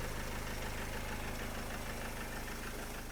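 A 2011 Renault Trafic long-wheelbase van with a 2.0 diesel engine, 115 hp, Euro 4, idling steadily with an even low rhythmic chug and a faint knock, running alone without talk.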